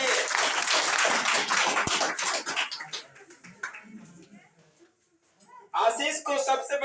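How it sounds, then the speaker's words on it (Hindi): A crowd claps loudly for student Ashish as he comes up to receive a medal at a topper students' award and Holi Milan ceremony; the clapping fades after about three seconds and a speaker's voice follows. "जोरदार ताली हो जाए आशीष के लिए"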